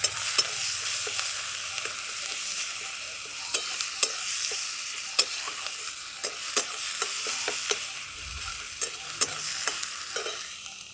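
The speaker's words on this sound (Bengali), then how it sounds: "এবার ভালো করে ভাজা ভাজা করে নিচ্ছি।" Grated onion, ginger and garlic sizzle in a pan under a steady hiss, broken by repeated sharp scraping clicks from stirring, close and moderately loud, with no one speaking.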